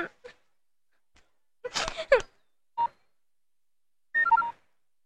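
A telephone being dialed, with a few short separate tone bursts spaced across a quiet room, one longer cluster of beeps near the end, and faint vocal sounds between.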